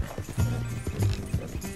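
Hooves clip-clop in an uneven rhythm alongside a horse's whinny and snorts in the Red Dead Redemption 2 video game, close and fairly loud.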